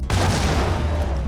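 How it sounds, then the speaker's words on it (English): A grenade bounced off a wall explodes in the 2001 PC game Max Payne, a loud, dense blast with a deep rumbling low end that sustains and rolls on for over a second without fading. "let's see if we can bounce a grenade off the wall there"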